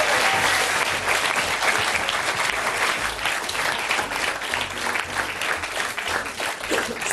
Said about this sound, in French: Merci d'applaudir nos invités.